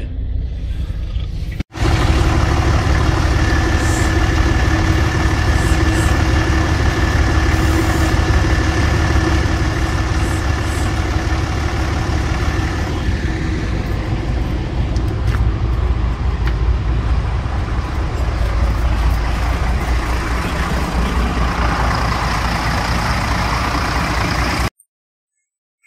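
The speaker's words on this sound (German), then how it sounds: "Wer stellt sich hinter einen Bus, um zu filmen, wie er da klingt?" An old city bus in Hamburg idles and runs right up close from behind, a loud, steady diesel rumble holding for over twenty seconds after a sharp start, with faint knocks and shifts along the way before cutting off abruptly.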